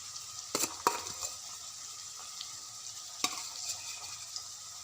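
Ingredients for sarson ka saag fry in a pan until light brown, a steady sizzle with a few sharp clinks of a stirring spoon early and midway; no voices.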